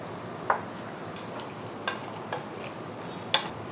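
Carrots and potatoes with water and coconut oil stirred in a pan: a low simmering hiss broken by four short spoon knocks and scrapes against the pan, close and clear.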